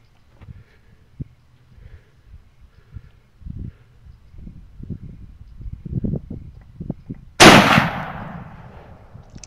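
A single sharp, loud unsuppressed rifle shot fired at a wild boar at night cracks out after quiet rustling and faint movement, leaving a brief ringing tail.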